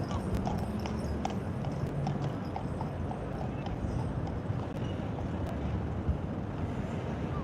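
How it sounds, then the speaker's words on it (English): Horse hooves clip-clop steadily along a busy street in Blackpool, a continuous rhythmic patter of hoofbeats under constant outdoor traffic and wind noise. "Clippity clop, clippity clop."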